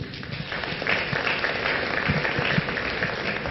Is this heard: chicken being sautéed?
no